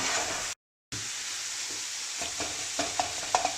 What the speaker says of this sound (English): keep whacking that mince until it's nice and brown